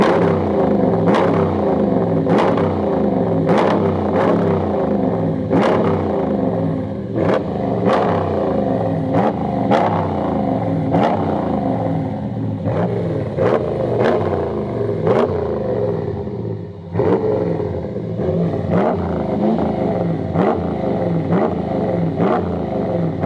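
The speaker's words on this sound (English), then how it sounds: "No, it's the Flowmaster Mufflers. Oh, nice. Want to hear the exhaust?" A Dodge Ram 1500 pickup with Flowmaster mufflers rumbles loudly and steadily, its exhaust rising and falling through repeated revs over a deep idle, with no talking.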